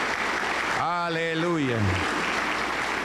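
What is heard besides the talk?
church congregation applause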